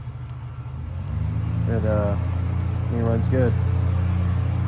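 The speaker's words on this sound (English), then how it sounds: "what you hear now is a fan boat in the lake" A fan boat engine drones steadily from a lake, a low, constant rumble that swells slightly partway through, while someone talks close by over it.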